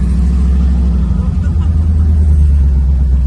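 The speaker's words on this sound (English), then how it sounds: "She's idling just fine, guys." Chevrolet Camaro IROC-Z with a supercharged 383 V8, idling with a deep, loud, steady rumble close by, the low throb filling the whole moment while people talk over it.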